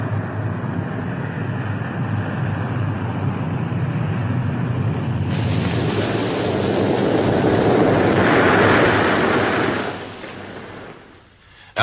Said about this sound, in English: the experimental plane is airborne, deliberately headed for a water landing